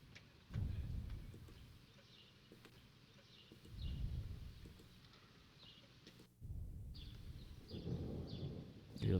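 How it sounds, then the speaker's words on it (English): Distant thunder from an approaching severe thunderstorm over New York Harbor, rumbling in low, rolling waves, swelling and fading several times, with wind and faint rain noise underneath. "You hear the thunder. There's the storm approaching"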